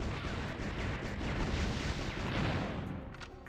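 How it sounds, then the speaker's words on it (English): Booming cannon fire from a retro console game, a dense run of heavy blasts and rumbling explosions that stays loud throughout and tapers slightly at the end. "Cannons for days."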